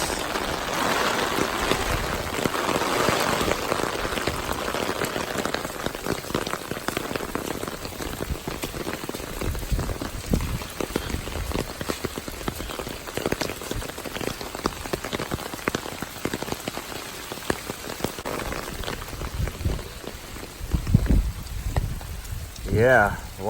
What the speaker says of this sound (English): Well, it's raining still, and it's supposed to rain all day.